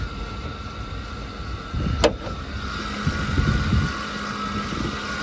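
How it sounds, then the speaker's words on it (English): A 2006 Mercury Mountaineer's 4.6-liter V8 idles under the open hood with a steady, continuous hum and faint irregular ticking. A brief sharper clank cuts in near the middle, then the idle carries on alone. "it's got a little noise coming from under the hood. Something is not happy."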